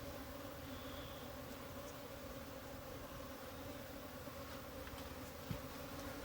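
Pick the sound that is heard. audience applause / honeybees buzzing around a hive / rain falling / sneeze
honeybees buzzing around a hive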